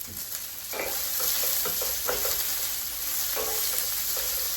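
Food sizzling in olive oil in a pan, a steady close crackling hiss with a few stirring scrapes and clinks over it, no talk.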